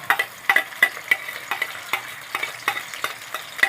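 A small onion frying in hot corn oil makes a soft sizzle broken by repeated sharp stirring taps and scrapes in an uneven rhythm, close by and without speech.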